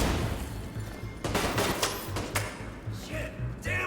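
Turret gunfire in The Division 2, heard as a loud, dense run of rapid bursts and thuds that carries on through the whole stretch.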